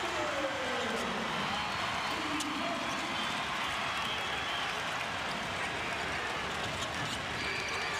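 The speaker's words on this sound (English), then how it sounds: "Crowd going loco for Alfonso" A basketball arena crowd at a FIBA World Cup qualifier between Puerto Rico and Canada roars loudly and continuously, a dense wash of cheering with a voice heard over it.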